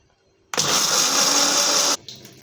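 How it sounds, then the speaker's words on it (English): An electric blender whirs fenugreek seeds with a little water in one loud, steady burst of about one and a half seconds, starting abruptly and cutting off sharply. "We have our fenugreek seeds in a blender, and then just a little water to enable blending, and then blend it."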